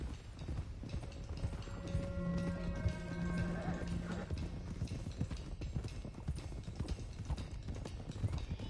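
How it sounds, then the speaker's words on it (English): Horses gallop in Red Dead Redemption 2, a steady clip-clop of hooves pounding close and loud throughout, with a brief whinny-like tone partway through. "let's get these horses to Clemens Cove quick before we run into any more trouble"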